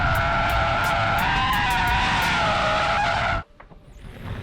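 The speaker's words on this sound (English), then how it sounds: "How about an EV that can drift?" A Hyundai Ioniq 5 N electric car drifts with a loud, sustained high tire squeal that holds steady for several seconds, then cuts off abruptly into quiet road noise.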